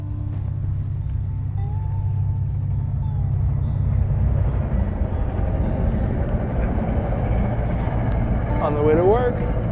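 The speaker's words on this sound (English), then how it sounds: "And we got a commuter rail going by." A commuter rail train rumbles past at a birding spot, a steady low, broad roar that swells midway and holds, with a bird call briefly on top and speech likely underneath.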